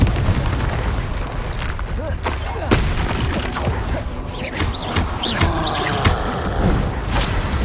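Confringo blasting spells explode repeatedly in the Hogwarts Legacy video game, with heavy booms and bursts over a constant din of magical combat while a voice speaks.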